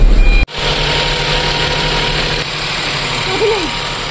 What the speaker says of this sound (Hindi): अभी जो है एक सेल्फ में गाड़ी को स्टार्ट कर दी है